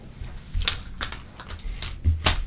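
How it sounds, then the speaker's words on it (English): A deck of tarot cards being shuffled, heard as a few crisp, papery riffling bursts with soft shuffling between them, close and fairly quiet, with no one talking. "let me just shuffle these one more time"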